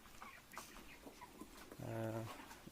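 Broiler chickens about 38 days old on a small farm of around 150 birds cluck softly while resting after feeding, with scattered low calls and a brief louder, tonal call near the end, against steady background noise.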